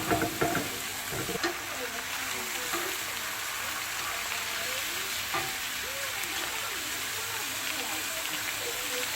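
Bacon rashers frying in a pan, a steady broadband sizzle with crackles and spatter running close and loud throughout, a few sharper pops near the start, with a voice murmuring faintly in places.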